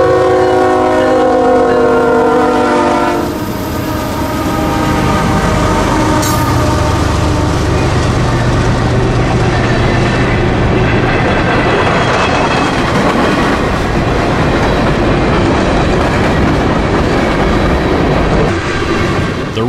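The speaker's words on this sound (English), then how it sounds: "Coming out of the diamond in Cordele is Q601, Daily Manifest out of Waycross to Gentilly Yard in New Orleans." A CSX Q601 manifest freight train comes out of the diamond at Cordele, Georgia, with loud, sustained horn blasts at first, then a heavy close rumble of wagons and wheel clatter rolling past.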